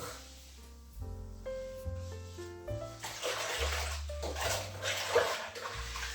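Old cut-up cotton t-shirt rags being washed by hand in water, with sloshing, splashing and wringing that build up in the second half, close by, alongside steady tonal background music.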